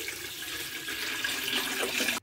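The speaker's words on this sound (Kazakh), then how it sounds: "су құйып қайнатамыз" Water pours into a pot of meat for pea soup, a short, close, steady gushing splash that cuts off at the end.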